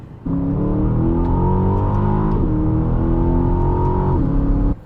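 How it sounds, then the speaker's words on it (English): An Aston Martin DBX V8 engine from 2021 revs loud and close, its deep rumbling tone rising and dropping through several pulls before cutting off abruptly. "you get that crazy V8 with those V8 noises that Aston Martin has nailed"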